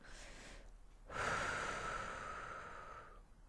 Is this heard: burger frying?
no